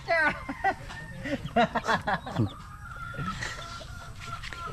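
A fighting rooster clucks and gives short crowing calls close by, several bursts in the first half, with someone talking in the background.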